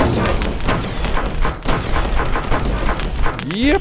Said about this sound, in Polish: Uwaga, będzie bomba.